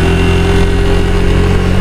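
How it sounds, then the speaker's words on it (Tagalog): A warmed-up motorcycle engine idles loud and close, a steady low throbbing rumble with an even pulse and no revving. "Pinainit ko pala yung aking motor kanina. Mainit na siguro to."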